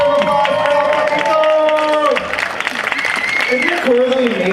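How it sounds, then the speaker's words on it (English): A crowd at a film introduction and Q&A at 356 Mission claps and cheers, with applause running under voices and a tonal, singing-like sound throughout. "Let's get a round of applause"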